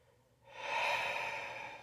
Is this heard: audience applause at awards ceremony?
no